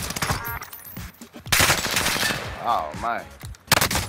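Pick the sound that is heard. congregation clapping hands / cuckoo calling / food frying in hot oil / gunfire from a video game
gunfire from a video game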